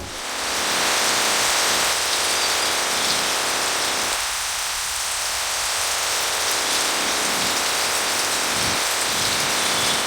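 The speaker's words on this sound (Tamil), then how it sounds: "2 நாட்களாக வெளுத்து வாங்கிய கனமழை இன்றும் காலை முதல் பலத்த காற்றுடன் தொடர்ந்து பெய்யும் நிலையில்" Heavy rain pours steadily in Rameswaram, a dense, continuous hiss lashed by strong wind that swells and eases in gusts, loud and close throughout with no voices.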